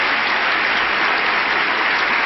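Studio audience applause on a 1974 CBS daytime game show, a loud, dense and steady wall of clapping filling the room with no break.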